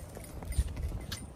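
A donkey's hooves clip-clopping on a city street in Cali, a few uneven near steps at walking pace with no one talking.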